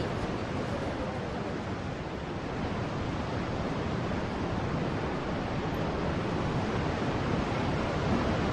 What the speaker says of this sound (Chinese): 好，正式的撞击老盐仓大坝。